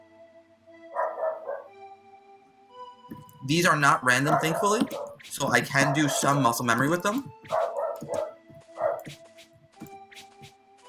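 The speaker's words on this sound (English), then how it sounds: "I hear my dogs are barking." Dogs bark close by in short bursts, some alone and some overlapping with a person talking in the foreground.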